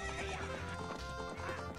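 A horse in Zelda: Ocarina of Time gallops with a steady clip-clop of hooves and lets out neighs and whinnies, loud and close, with no talking over it.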